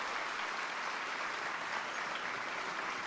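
A stadium crowd in an NFL video game reacts to a draft pick with a steady, dense roar of cheering and applause throughout.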